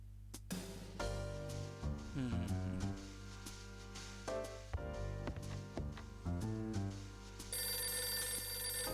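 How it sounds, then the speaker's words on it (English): Telephone ringing in The Last Window: The Secret of Cape West, a DS video game, with repeated electronic ring tones layered over a steady, quiet musical background, and a brief burst of chiming near the end. "It's the phone again."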